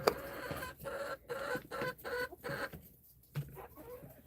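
Backyard homestead hens cluck in short, repeated bursts while pecking at eggs fed back to them, close by in a snowy setting.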